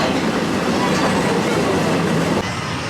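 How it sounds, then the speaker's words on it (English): The Big Thunder Mountain roller coaster train at Magic Kingdom rumbles along its track in a steady, loud, dense roar that drops off slightly near the end. "Big Thunder Mountain is the place. Because there, the trains have a mind of their own."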